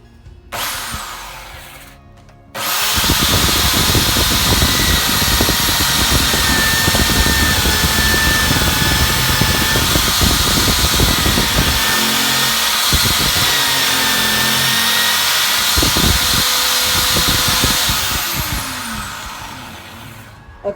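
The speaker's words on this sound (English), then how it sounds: "it's a corded hammer drill" A loud corded hammer drill starts abruptly and grinds continuously at close range for a long stretch, then winds down near the end.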